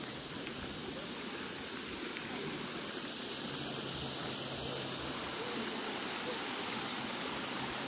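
Spring-fed water flowing steadily into a swimming pool, a continuous rushing wash like a stream or small waterfall, even and unbroken at moderate distance.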